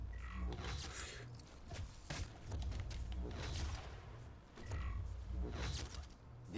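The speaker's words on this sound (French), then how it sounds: "ça tire comme ça." A weapon firing in the Doom beta video game, with bursts of loud mechanical shots and clanking in several clusters across the clip, heard alone without talk.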